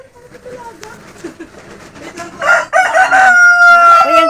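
A rooster crows loudly and close by, a long rising call that holds steady, preceded by faint murmuring voices and background clucking.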